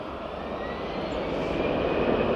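An easyJet airliner taking off at Manchester Airport, its engine roar a broad steady rumble that grows gradually louder over a couple of seconds, heard alone from a distance.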